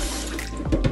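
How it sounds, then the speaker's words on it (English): Rice being washed under a running cold tap for Jamaican rice and peas, steady close splashing water with a couple of brief gurgling drips near the end, with no talking. "So for the Jamaican rice and peas, you wash the rice under cold water."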